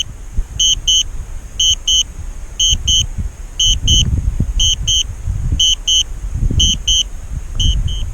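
A DJI Spark drone controller beeping in repeated double-beep pairs, steady and insistent, over continuous loud wind rumble outdoors.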